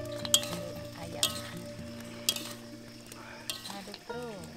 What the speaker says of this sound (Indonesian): Aduk-aduk, kita tunggu sampai bumbunya meresap ayam.